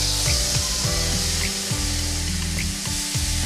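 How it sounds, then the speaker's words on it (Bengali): Onion paste fries in hot oil with a steady, loud sizzle all the way through, heard close up, with faint scraping and stirring knocks under it. "পেঁয়াজটা একটু লাল লাল করে ভেজে নেব।"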